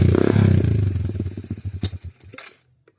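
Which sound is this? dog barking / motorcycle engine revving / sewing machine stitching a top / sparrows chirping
motorcycle engine revving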